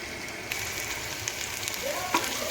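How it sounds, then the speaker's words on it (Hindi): Cauliflower frying in a pan, a steady soft sizzle with faint crackles and one small pop near the end, no talk. "अब इसको हल्का सा हमने थोड़ा इसका कलर चेंज होने तक फ्राई करना है"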